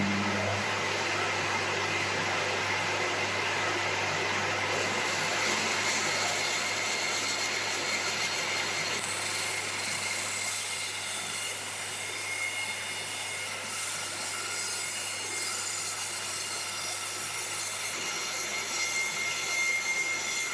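A Record Power Sabre 300 bandsaw cuts through just over 14 cm of dry oak, a loud, steady, unbroken roar with a faint high whine that runs the whole twenty seconds, with no voices.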